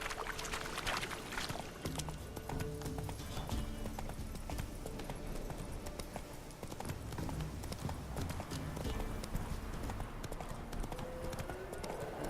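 A horse gallops in The Witcher 3 video game, its hooves beating out a fast, steady clip-clop rhythm that runs without a break at moderate volume, with faint ambient sound from the game world underneath.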